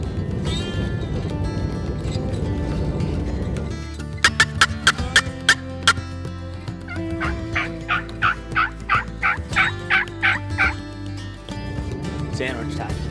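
Wild turkeys gobble in rapid bursts during an early-season hunt in Iowa, several rattling calls rising over outdoor background noise, loud and fairly close, with a pause between volleys.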